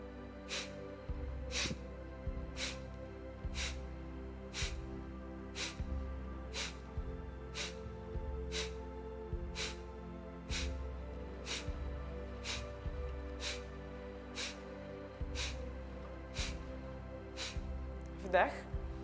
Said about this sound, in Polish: Musi to być rytmiczne, dynamiczne wydychanie powietrza z aktywacją pasa brzusznego.